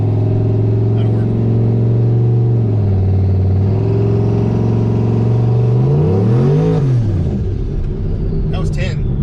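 A boosted 4.8 truck engine revs while driving, a loud steady drone that rises and falls with a sharp rev swell near the end, with talk heard over it.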